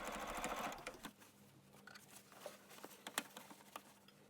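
Sewing machine stitching the hem of a jacket with a blind-hem presser foot, a fast whirring patter loudest at the start, then softer intermittent stitching with small clicks and fabric rustle.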